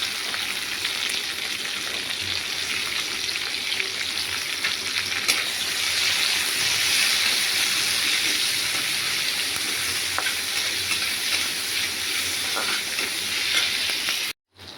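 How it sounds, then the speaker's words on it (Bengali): Chopped onion sizzles steadily in a hot pan of oil for a Bengali cabbage curry, a loud, continuous frying hiss with faint scraping, cutting off abruptly at the end. "এবারে পেঁয়াজটা দিচ্ছি।"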